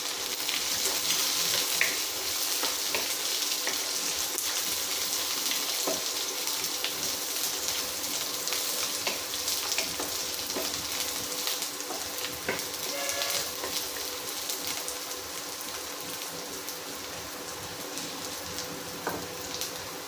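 Finely chopped coconut fries in a pan with a steady, close sizzle and crackle, occasional stirring scrapes, and no one speaking.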